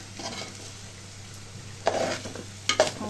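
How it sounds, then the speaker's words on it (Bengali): Rice for polao fries in a pot as a spoon stirs it, giving a soft steady sizzle. Two sharper scraping strokes stand out near the end, with no voices. "চাউলগুলো ভাজা হয়ে গেছে, লাল লাল হয়ে গেছে"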